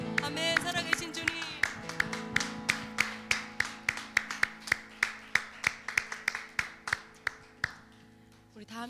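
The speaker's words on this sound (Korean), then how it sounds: "주님께 우리 영광의 박수 올려드리겠습니다." A church congregation in a Korean worship service claps in a steady, even beat, about three claps per second, over sustained music and voices, with the claps sharp and fairly close before they fade near the end.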